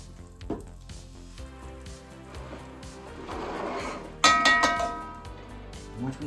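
Beef short ribs sizzle and spit as they brown in a hot pan, the frying hiss swelling and bursting louder near the end, alongside some clinking.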